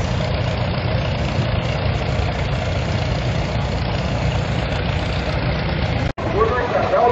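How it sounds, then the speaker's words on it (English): 1957 John Deere 720 diesel tractor of 58 horsepower running at a steam power show in Sycamore, Illinois, a steady low chugging engine drone nearby, with a voice talking over it and a brief dropout near the end. "Here's a John Deere Diesel 720 power steering, 1957, 58 horsepower, Gary Pitts."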